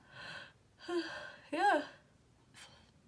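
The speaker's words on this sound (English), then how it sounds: "You got me yawning." A close, drawn-out voiced yawn, with breathy gasping sounds just before and a short exhale after.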